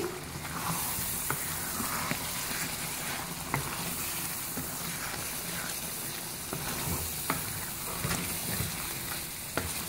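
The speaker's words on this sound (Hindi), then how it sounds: "अच्छी तरह से मिक्स करेंगे हाई फ्लेम पे।" Mutton karahi with garam masala being stirred in a wok over a high flame, a steady sizzle and fry throughout with occasional light scrapes of the spoon against the pan.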